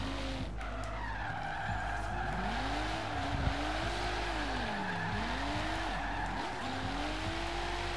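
Tires skid and squeal in a long, wavering screech as a car slides under the handbrake in Forza Horizon 3, over a steady engine drone with no pauses.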